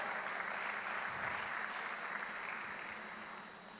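A church congregation in San Martín, Mendoza, gives a sustained round of applause that blends into a soft, even wash of clapping, heard from a distance and easing slightly toward the end.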